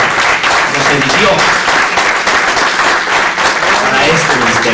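Sustained, dense applause from a church congregation fills the space loudly and evenly, many hands clapping at once, with voices blended into the crowd noise.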